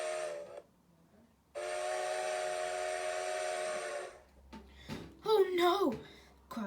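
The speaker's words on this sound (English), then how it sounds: "He blew his whistle, but he had no sparkle" A whistle blows twice, a short toot then a long sustained airy tone, followed by a voice speaking expressively.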